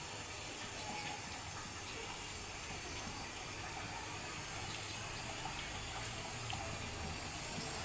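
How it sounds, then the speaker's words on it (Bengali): Milk flower pitha fry in hot oil over a low flame with a constant, even sizzling hiss that stays close and steady throughout, with no voices. "এবার আমি তেল গরম হয়ে গেছে, এবার পিঠাগুলো একটা একটা করে ছেড়ে দেব।"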